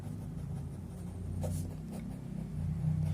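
Chalk or marker scratching across a board during a lecture on mechanical stress in solids, with soft intermittent strokes over a low room hum and no talking.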